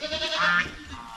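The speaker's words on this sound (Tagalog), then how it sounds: "Yung kambing na yan." Goat bleating on a small farm, one or two wavering cries close by with no talk over them.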